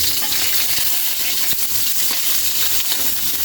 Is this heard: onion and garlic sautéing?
yes